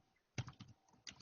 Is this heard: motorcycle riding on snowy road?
no